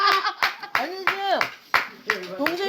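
Close, rhythmic hand claps at a birthday party, about six crisp claps spaced roughly evenly, mixed with women's chatter and laughter.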